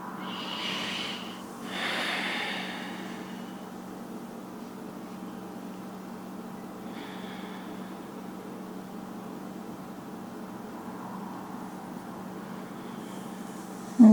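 Deep, slow breathing during a yoga flow session, two or three soft breaths audible early on, then a quiet, steady room hum with faint breath sounds, no talking.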